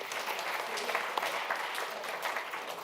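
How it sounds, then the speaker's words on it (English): Audience applause for panelists at an entrepreneurs' networking and showcase event, a steady, moderately distant wash of many hands clapping that holds evenly for a few seconds. "please give them a round of applause."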